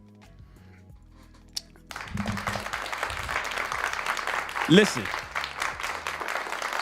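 A soundboard applause effect bursts in after a brief spoken word, a bright continuous wash of recorded clapping and crowd noise that runs on steadily, with a voice briefly rising over it.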